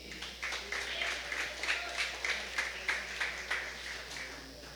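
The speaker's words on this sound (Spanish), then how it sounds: "Denle un aplauso al Señor." A crowd claps in applause with rhythmic, evenly spaced beats under a steady background hum, moderately loud and sustained throughout.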